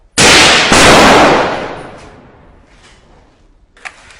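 A single loud, close gunfire volley cracking out all at once, then echoing and fading over a couple of seconds, followed by faint distant pops.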